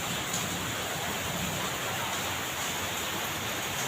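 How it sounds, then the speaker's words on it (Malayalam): Heavy monsoon rain in Delhi pours down in a dense, unbroken hiss, loud and steady throughout with no voices over it. "എന്താ മഴ"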